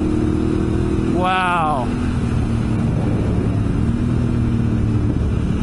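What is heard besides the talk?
Honda Africa Twin DCT motorcycle shifting through gears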